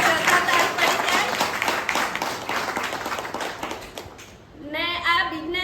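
Audience applause at a business achievers' celebration for a new Kia Seltos car, dense steady clapping for about four seconds, then fading as a voice begins speaking.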